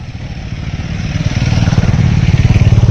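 Motorcycles of a group of bike riders passing along a mountain road, a loud rumbling engine drone that grows stronger and nearer, with the pulsing beat of exhausts going by.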